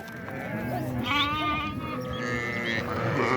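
A flock of about 450 sheep and lambs at a farm in Talagang, with several overlapping bleats over a steady background murmur of the animals.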